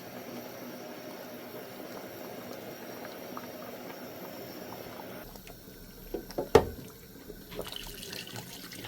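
Palm nut soup with smoked fish and oxtail bubbles steadily in a pot, a continuous soft simmering wash that quiets partway through, broken by a sharp knock or clatter.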